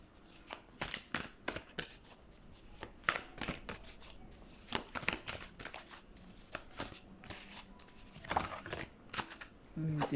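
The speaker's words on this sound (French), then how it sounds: "j'ai une première carte qui se retourne." Playing cards drawn one after another and flipped face up during a French-language card reading, giving a string of crisp papery snaps and slides, close and fairly quiet, with soft pauses between flips.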